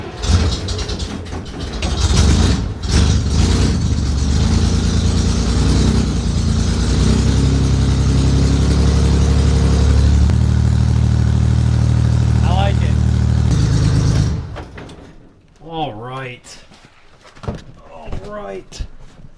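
A Chevrolet Corvair engine, freshly repaired in a trailer after recovery, runs loud and close with a rough, throbbing note for about fourteen seconds before cutting off, followed by people talking excitedly.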